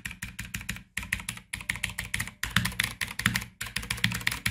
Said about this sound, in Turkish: Onun dışında klavyemizden gelen sesi dinletmek istiyorum size.